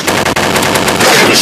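Rapid gunfire from the Special Ops strategy shooter game, a dense, loud burst of automatic shots running continuously through the moment with a brief dip near the start.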